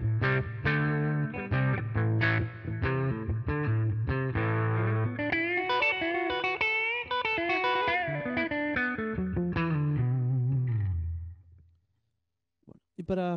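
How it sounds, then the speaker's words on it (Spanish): A Line 6 Variax electric guitar modelling a Goldtop '56 with both P90 pickups on plays sustained riffs and bends with an effected, slightly distorted tone, loud and close, fading out before a brief click. "Y ahí tenemos el sonido de los dos P90 funcionando juntos."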